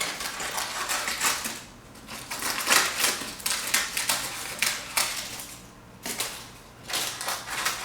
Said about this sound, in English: Trimming off the extra parchment paper.